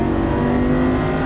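Lamborghini Superleggera at full throttle on a track at Exotic Racing in Las Vegas, with a loud, steady engine roar close by and a rising tone throughout, no talk over it.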